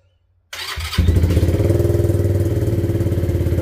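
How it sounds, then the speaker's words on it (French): A Bullit Hero 125 motorcycle engine cranks and catches after a moment of silence, then settles into a steady, close, loud idle with an even rhythmic throb as it warms up. "je vais la faire tourner un petit peu"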